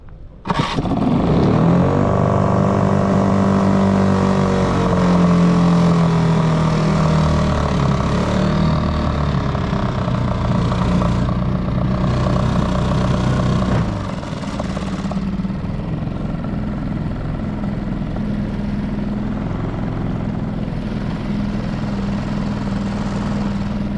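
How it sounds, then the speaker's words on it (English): Outboard motor on a small solo skiff runs loud and close, revving high before dropping into a lower steady idle about midway, with a continuous buzzing drone throughout. "Yeah, I got to get the idling way down."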